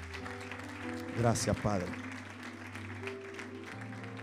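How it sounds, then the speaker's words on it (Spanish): Brief burst of applause from a church congregation, clapping swelling for under a second amid a voice speaking before and after it. "Dame un aplauso a Dios por ella."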